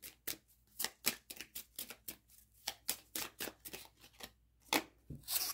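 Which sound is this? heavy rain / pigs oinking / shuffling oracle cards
shuffling oracle cards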